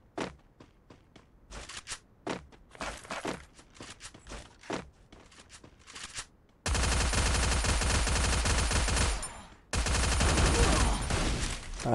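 Rapid bursts of gunfire in the mobile battle-royale game Free Fire, first as scattered sharp shots with footsteps, then a loud sustained barrage of automatic fire that briefly stops and resumes.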